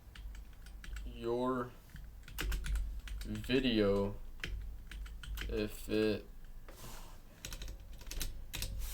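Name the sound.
typing on a computer keyboard with one hand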